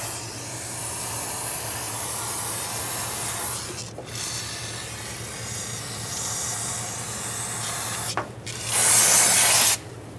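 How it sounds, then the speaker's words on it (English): Brake parts cleaner hisses from an aerosol can onto the rear wheel cylinder and brake parts of a 2006-2011 Honda Civic, long continuous sprays broken by short pauses, ending in a louder, sharper close burst. "spray brake parts cleaner on this to clean everything off"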